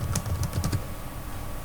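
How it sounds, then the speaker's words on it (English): Characters typed on a computer keyboard in a quick burst of a few keystrokes, then a pause with quieter clicks, close up and with no talking. "Here I am typing the characters."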